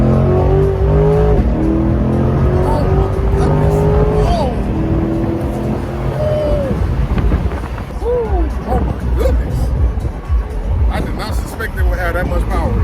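Corvette C8 Z51 on a freeway drive, its engine revving hard as it accelerates, rising and falling in pitch with shifts, loud and close inside the cabin with people talking over it.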